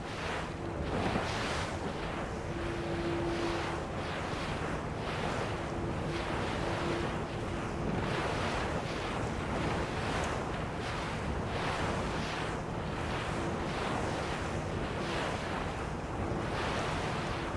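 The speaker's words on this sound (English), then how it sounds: "Just a little bit of chop starting to appear on the water." Choppy sea waves slap and wind rushes steadily over open water as TP52 racing yachts sail a regatta off Valencia. The broadband roar stays loud and continuous throughout, with no talk.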